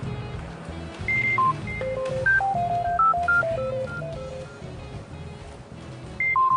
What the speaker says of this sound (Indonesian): Masih aja suka nelfon-nelfon Reno.